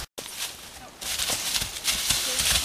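Horse hooves walking on a trail, uneven thuds and clops stepping at a slow pace, close by, with a brief drop to silence at the start.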